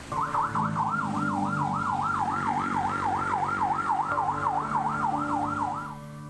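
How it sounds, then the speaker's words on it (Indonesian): An ambulance siren wails loud and close as the vehicle heads to a cemetery in Surabaya, with a fast, regular up-and-down cycle repeating continuously before it fades slightly at the end. "mobil ambulans yang membawa jenazahnya menuju TPU Keputih Sukolilo, Surabaya"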